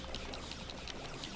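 A video-game waterfall in Skylanders Trap Team gives a steady, dense rushing wash of water, continuous and fairly soft throughout with no talk.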